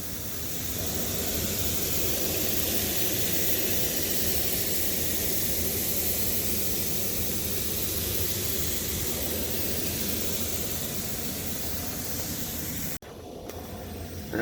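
Steady, loud hiss of water steaming and sizzling on a hot grill with vegetables, continuous for most of the clip before dropping off abruptly near the end.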